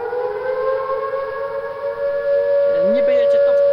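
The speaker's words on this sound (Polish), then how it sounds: "Ale znowu mi tak wyje. No to syrena jest spieprzona." A loud vehicle siren wails steadily in the Project Tank video game, its tone holding high and then bending in sweeping rises near the end, with no talk over it.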